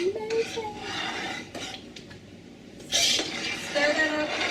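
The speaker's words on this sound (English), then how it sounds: "Stir that up." A spoon clinks and scrapes against a pot while pear sauce with orange extract gets stirred, giving a few soft scrapes and taps that come and go. A voice talks over them in places.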